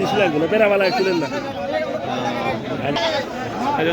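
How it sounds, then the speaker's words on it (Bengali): Totapuri goats bleat repeatedly amid a noisy crowd at Baneshwar market, Bangladesh, their wavering cries overlapping with steady chatter and voices close by. "দর্শক দেখছেন ছাগলের পালা এগুলো ছাগল"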